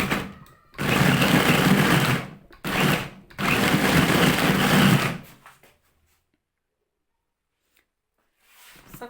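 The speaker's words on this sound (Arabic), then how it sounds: "صافي من بعد ما نطحن التمر ديالنا هو تلوك" Electric food processor or grinder running on dates in a kitchen, three loud steady whirring bursts separated by short pauses, then silence and a brief restart at the end. No talking.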